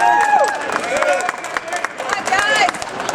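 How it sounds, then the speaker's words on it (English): An audience claps for an engine-building team during a timed assembly competition, brief uneven applause under loud talk from a host and crowd chatter. "Let's give them a hand."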